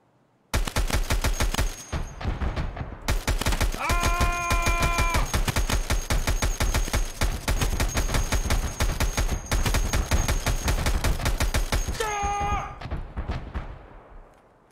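Sustained automatic gunfire in Escape from Tarkov on the Reserve map, a long rapid machine-gun burst with only short pauses, loud and close, mechanical clicks and rattles between volleys.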